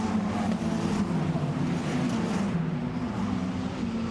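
A Formula Renault race car with a 1.8 litre, 210 horsepower engine and seven gears drops down through the gears at Imola in qualifying, its steady loud engine note droning with no voices over it.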